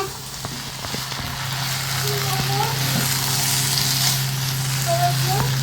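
Tripe sizzles and spatters steadily in hot oil, a dense continuous frying hiss with scattered pops, close and fairly loud, while faint voices and household sounds come through underneath.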